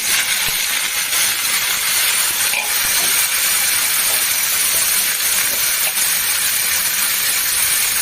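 Jackfruit and potatoes hit hot oil in a pan, raising a loud, steady, hissing sizzle that holds unbroken throughout with no pauses.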